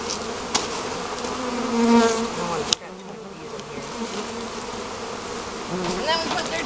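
Angry honeybees from a newly installed package buzz in a loud, dense, continuous drone close by, with a brief sharp knock partway through.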